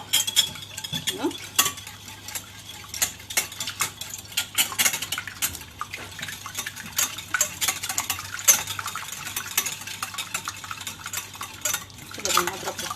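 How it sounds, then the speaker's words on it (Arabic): Three eggs are beaten with a whisk in a bowl for a cauliflower batter, the metal wires ticking and clattering in quick, uneven strokes that continue steadily and close by. "كده بالمضرب بتاعنا."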